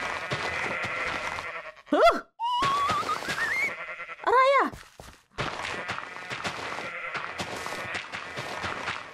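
Goat bleating in a modded Minecraft game, two short wavering bleats amid game sound effects, footsteps and thuds, with a voice speaking briefly.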